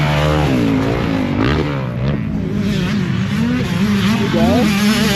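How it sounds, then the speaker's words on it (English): Quads race on a motocross track, engines revving loud and near, rising and falling through gear changes with several machines overlapping. "Ooh, quad."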